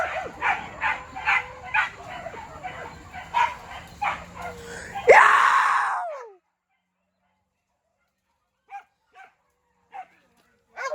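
A dog barks repeatedly at close range in a quick uneven series, then a single loud burst cuts in and fades to silence, with a few faint short sounds after.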